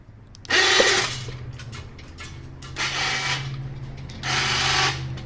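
An electric engine hoist extends in three separate bursts of whirring, ratcheting motor noise, each lasting under a second, with quiet pauses between them and a low hum underneath throughout, recorded close by in a garage.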